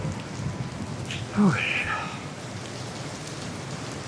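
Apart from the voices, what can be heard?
rain falling in Manila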